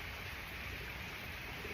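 Steady rain falls outside through a gray day, heard as a quiet, even hiss that carries on without a break and with no voices over it.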